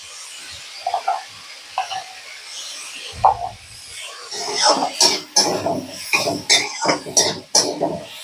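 A spoon scrapes and stirs paneer masala with turmeric in a pan, making rough, uneven rubbing strokes that grow busier and more rhythmic in the second half, with brief sizzling bursts between the strokes.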